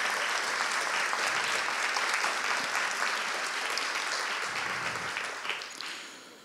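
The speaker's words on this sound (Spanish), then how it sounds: "Brindemos un fuerte aplauso a los docentes que han sido reconocidos por los 30 años de servicio" An audience at an award ceremony honouring teachers for 30 years of service applauds warmly and steadily, then the clapping fades out over the last couple of seconds.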